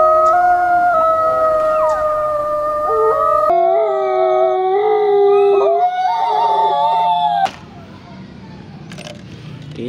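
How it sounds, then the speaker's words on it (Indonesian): A toy wolf lets out long, wavering electronic howls, close and loud. The pitch shifts between sections, and the howling drops away to quieter clatter near the end. "Di sini ada serigala juga teman-teman."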